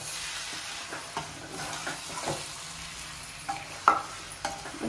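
Curry leaves and chicken fry in a pan for a chicken fry dish, a continuous close sizzle broken by irregular scraping stirs and a few sharper knocks of the spoon against the pan.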